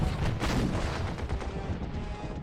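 An artillery attack in the strategy game OpenGeneral, set in the Polish-Bolshevik war of 1919-20 at Daugavpils, rolls out as a dense burst of gunfire and booming impacts that holds loud and steady.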